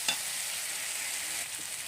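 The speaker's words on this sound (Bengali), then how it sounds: "আবার কষিয়ে নেব।" Tilapia fish curry with cauliflower sizzling and frying in a pan, a dense hiss of hot oil with light stirring scrapes.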